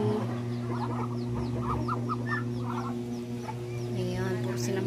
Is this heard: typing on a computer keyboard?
no